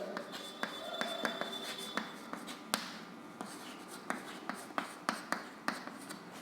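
Chalk or marker strokes on a classroom board during a grade-8 maths lesson come as quiet, irregular taps and short scratchy strokes, some with a sharper tick, close and alone without talk.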